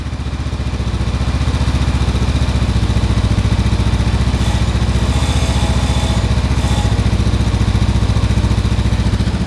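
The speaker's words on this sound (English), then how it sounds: "This is the first startup since this bike left the factory." A 2019 Honda CB500F twin-cylinder motorcycle engine idles cold on its first start-up, a loud, close, steady fast-pulsing throb with a slightly raised idle and faint mechanical clatter, running evenly throughout.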